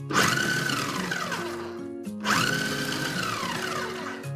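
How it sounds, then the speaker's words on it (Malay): A small blender whirs loudly grinding garlic, sugar, vinegar and salt into a chili paste for Kelantan mee celup, two close motor bursts with a brief pause between them. "tukar blender sebab senang nak kisar kalau sikit pakai ni"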